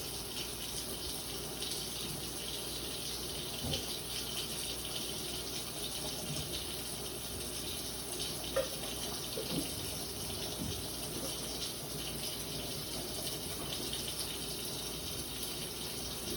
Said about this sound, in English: So I'm gonna take these over to my sink here, get my water going.